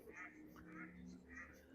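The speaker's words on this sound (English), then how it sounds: "Oh my god, that duck hates us." Outdoors on a walk, a duck quacks in several short, nasal bursts, fairly faint and at some distance, with a low background rumble and no clear talk.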